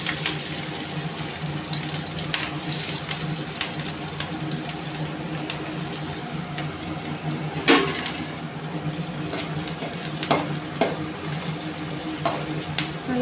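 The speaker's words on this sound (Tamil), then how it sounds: "அதில் ஆனியன் போட்டு நல்லா ஒரு ஆனியனை வந்து நல்லா பொன்னிறமாக வறுக்கணும்" Onions with mustard seeds frying in oil in a pan for an okra stir-fry, a continuous close sizzle with scattered sharp pops and crackles and a few louder spatters, no talk.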